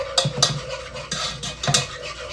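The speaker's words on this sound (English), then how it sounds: "I'm gonna whisk it all into the butter and make it really nice and smooth." A metal whisk scrapes and stirs through a butter mixture in a non-stick pan, giving repeated scratchy strokes in an uneven rhythm, close and moderately loud, with no talking.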